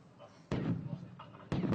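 Distraction explosions and blank-cartridge gunfire during a counter-terror assault drill, heard as two loud sharp bangs about a second apart, each followed by a rumbling decay, with voices in the background.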